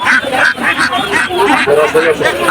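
Domestic geese at a bird market honk in repeated nasal calls close by, overlapping with people talking.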